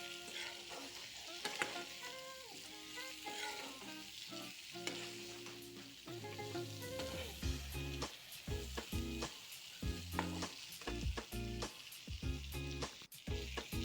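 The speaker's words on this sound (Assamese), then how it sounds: "এতিয়া গোটেইখিনি মই অলপ সময় লৰাই থাকিম।" Potatoes and raw papaya sizzle loudly in a pan, stirred continuously so that scraping and clattering knocks of the spoon break through a dense, crackling fry. No one speaks.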